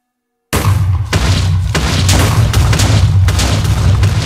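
A string of loud, booming TNT explosions in Minecraft, set off during a mountain demolition, rolls on continuously for about four seconds after a short silence, with repeated heavy blasts layered over a steady low rumble.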